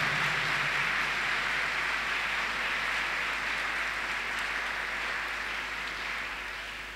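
Loud, dense applause from a congregation at a Sunday church homily for the Feast of the Baptism of the Lord, a steady wash of many hands clapping that holds for several seconds and slowly tapers off.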